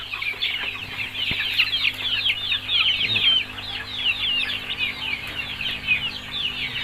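Native Thai chickens, breeding roosters and hens, cluck and chatter continuously during feeding, a busy, overlapping flock of calls at close range with occasional wing flaps and a low background hum.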